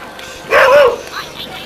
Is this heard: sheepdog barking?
yes